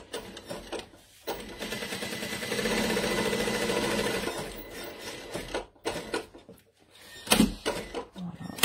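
Sewing machine stitching a line down the middle of a fabric pouch: a close, whirring run lasting a few seconds, then short bursts of stitching separated by pauses and small handling knocks.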